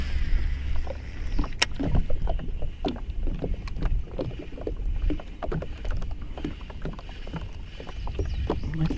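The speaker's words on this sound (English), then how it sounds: "Let's spin the boat around." A bass fishing boat swings around on open water, with steady hull and water noise, wind buffeting the microphone and scattered knocks and clicks of gear throughout.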